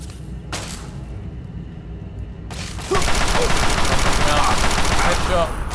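Rapid automatic gunfire from a firefight in Fallout 3, a dense stream of shots that starts softer and grows louder and continuous partway through, with faint voices mixed in.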